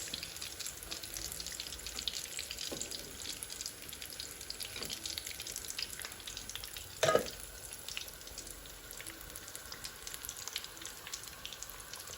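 Potato chops frying in oil while being turned, a faint, steady sizzling hiss with one brief clatter partway through, heard alone without any voices.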